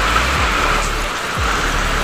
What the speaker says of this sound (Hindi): एकदम तूफान सा बारिश हो रहा है